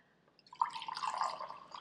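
Liquid poured into clear plastic cups: after a brief quiet moment, a soft, close trickling splash runs for about a second and a half.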